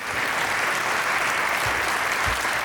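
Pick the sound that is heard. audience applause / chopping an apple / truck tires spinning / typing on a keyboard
audience applause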